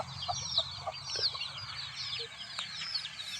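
Free-range country hens cluck softly with high peeping chicks chirping throughout, close by and moderately faint.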